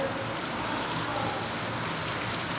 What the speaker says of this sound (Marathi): मग जोराचा तुफान पाऊस आला आहे